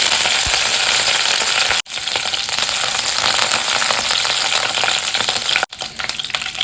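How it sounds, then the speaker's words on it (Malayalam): A handful of curry leaves sizzling in hot coconut oil, a loud, steady frying hiss up close that stops abruptly twice, briefly, with no speech. "നമുക്കിതിലേക്ക് ഒരു പിടി കറിവേപ്പില ഇടാം"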